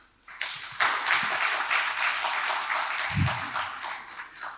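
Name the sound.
audience applause for panelists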